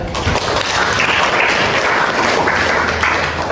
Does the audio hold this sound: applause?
yes